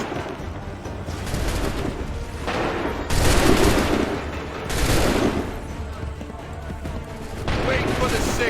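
Massed musket volleys and scattered gunfire in Assassin's Creed III, repeated booming bursts over a dense battlefield din, with shouted voices mixed underneath.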